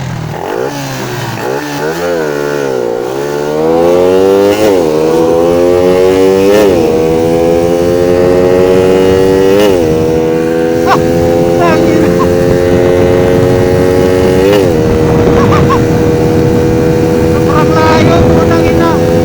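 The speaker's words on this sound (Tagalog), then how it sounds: "Malakas yung motor ko." A Suzuki Raider 150 motorcycle engine revs up and down repeatedly, loud and close, its pitch climbing and falling with each throttle twist over a steady idle.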